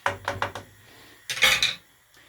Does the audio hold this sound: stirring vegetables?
yes